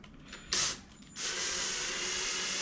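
A drill fitted with sandpaper whirs steadily at close range on wet marble after a couple of brief bursts, with a continuous grinding hiss like a sander working a surface.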